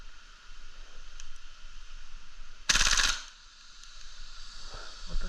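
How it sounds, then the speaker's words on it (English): Novritsch SSQ4 airsoft gun fires a single sharp, loud burst of under half a second against a steady hissing background, with faint clicks before and after. "So I guess the full auto on mine doesn't work."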